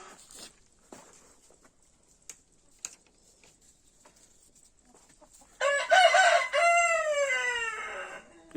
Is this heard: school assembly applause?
no